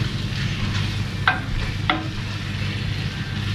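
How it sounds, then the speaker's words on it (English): Curry paste for a homemade chicken korma being stirred into sizzling onions in a pan: a steady close frying hiss with two brief scrapes of the spoon, no voices. "I'll just mix that in with the onions, and then we'll put in the rest of the ingredients."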